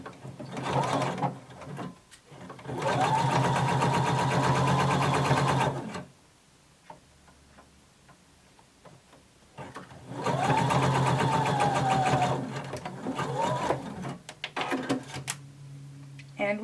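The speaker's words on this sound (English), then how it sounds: "now we're going to sew our shoulder seam using 5/8 of an inch seam allowance" A sewing machine runs in two long, steady bursts of rapid stitching along a shoulder seam at 5/8 inch seam allowance, with a quiet pause and small handling sounds between them.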